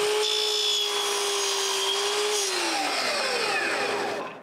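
A saw cuts the short wooden side pieces for a medicine cabinet door in one continuous pass, with the pitch of the whine dropping toward the end of the cut.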